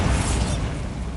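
A Bombarda blasting spell goes off in Hogwarts Legacy: one dense, loud, broadband burst that is already rumbling at onset and fades slowly across a little over a second, with no talk.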